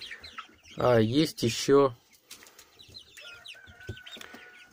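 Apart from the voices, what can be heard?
chickens clucking, large rooster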